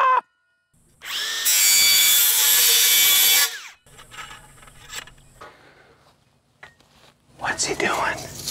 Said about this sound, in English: Cutting off your post.